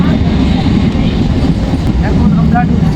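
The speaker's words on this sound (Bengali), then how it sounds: "তো আমরা এখন ট্রেনে চেপে পড়েছি।" A local passenger train runs along its line with a steady, heavy low rumble and rattle of the carriage throughout, close and continuous, with faint squeaks now and then.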